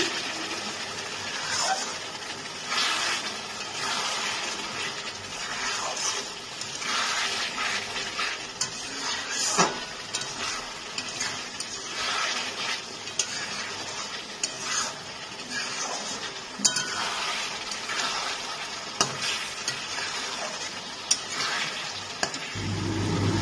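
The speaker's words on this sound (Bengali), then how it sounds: "মশলাটা দেওয়ার পর এটাকে আমি ভালোভাবে কষিয়ে নিচ্ছি।" Spice masala for a fish-head kalia fries and is stirred in a pan, giving a steady close sizzle with occasional scraping and clinking from the spoon throughout.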